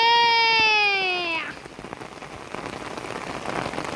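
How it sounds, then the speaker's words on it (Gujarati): Heavy rain pours onto a road in a steady, dense hiss that fills the clip, following a brief descending wail-like tone at the very start. "વરસાદ બહુ ચાલુ છે મિત્રો"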